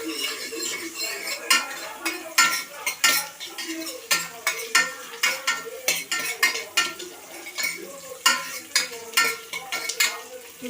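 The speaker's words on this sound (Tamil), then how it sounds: "இப்போ கிண்டணும்." A spoon stirs through sambar ingredients in a pot: green chillies, curry leaves and dried chillies being cooked for vallarai sambar. Repeated scraping clinks and light sizzling come in a steady rhythm, close and fairly loud, with no talk.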